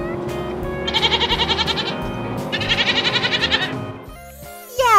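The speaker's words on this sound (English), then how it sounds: "Yes! It's a goat!" A farm goat bleats in two long, quavering runs of rapid pulses, loud and close, with a brief squeaky sound at the end.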